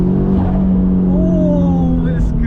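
Heavily modified turbocharged Toyota GT86 with an HKS turbo kit, over 300 BHP, revving hard from inside the cabin, engine note climbing steadily with a rising turbo whine, loud and close, with a voice speaking over it.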